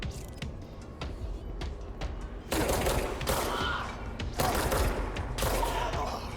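Rapid bursts of gunfire ring out during combat in the video game Control, loud, dense volleys that come in waves and swell sharply about midway through.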